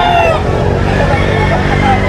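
A White Kelso gamecock, a 16-month bull stag, crows loudly and close over a busy outdoor background with some nearby voices.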